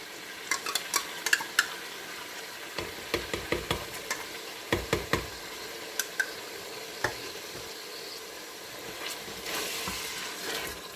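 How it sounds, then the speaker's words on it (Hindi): Beef with yogurt frying in a pot for beef korma: a soft background sizzle under a run of close, light clinks and scrapes of a spoon against the pot, clustered at first, then sparser, with no voices. "दही डाल के इसको गोश्त को अच्छी तरह से भून लेना है।"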